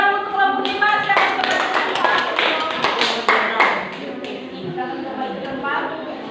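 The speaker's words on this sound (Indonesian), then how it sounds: "terima kasih tepuk tangan untuk kelompok 5" Classmates in a grade VII classroom clap for group 5 after its presentation, a loose patter of hand taps with voices and tonal chatter running underneath, fading somewhat toward the end.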